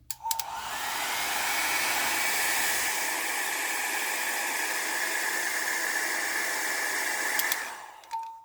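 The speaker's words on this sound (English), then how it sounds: "This is actually a blow dryer, the kind that comes with the brushes in different sizes." A blow dryer of the kind sold with round brushes in different sizes switches on and runs with a steady, loud whooshing hiss for several seconds, then shuts off.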